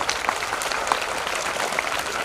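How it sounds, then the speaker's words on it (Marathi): Loud, dense applause from an audience fills a science exhibition opening ceremony, a brief sustained burst of clapping heard up close. "एकदा जोरदार टाळ्या वाजवा."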